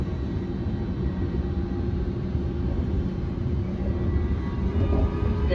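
A train passing nearby: a steady low rumbling roar that holds at an even level for several seconds and swells slightly toward the end, with no speech.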